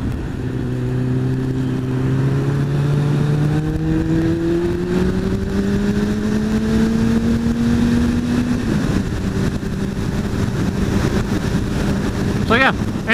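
Motorbike ridden along a road, its engine droning steadily and rising in pitch as it accelerates through gears, with wind rush on the microphone and someone talking over it.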